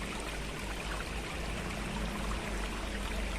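A river runs over large limestone rocks and slabs in a wooded village spring area, giving a steady, full rushing and gurgling that continues without a break and with no voices.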